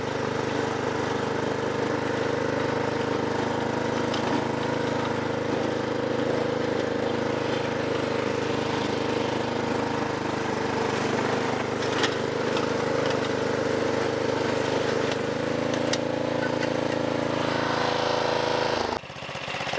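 Snapper riding lawn mower engine running steadily at a constant throttle, a loud, close, droning hum with a slight shift in pitch near the end before it drops off abruptly.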